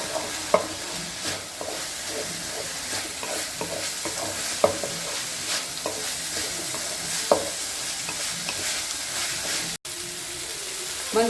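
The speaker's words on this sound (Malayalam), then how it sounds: "മഞ്ഞൾപ്പൊടിയൊക്കെ ചേർത്ത് നന്നായി ഇളക്കിയിട്ടുണ്ട്." Beans with onion and turmeric stirred in a frying pan: a continuous sizzle with repeated scraping clinks of the spoon against the pan, close and fairly loud, with no talk.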